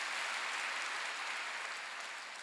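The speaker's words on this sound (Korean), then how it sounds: "박수 좀 세게 쳐봐요." A church congregation at a Wednesday service claps hard together, producing a continuous, even wash of clapping that stays fairly faint and slowly fades, with no voices.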